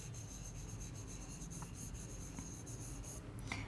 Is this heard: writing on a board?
yes